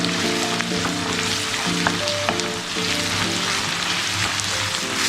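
Sliced onions sizzle and fry steadily in sunflower oil in a pan while prawn roast is being made, a dense continuous crackle with occasional soft stirring sounds, close and alone.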